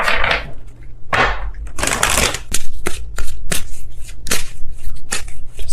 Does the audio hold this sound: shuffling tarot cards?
yes